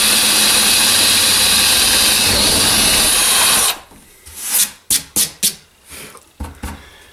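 A power drill fitted with a drill bit, heard close and loud while making a lift-out: a long steady whine, then a series of short trigger bursts separated by brief silences.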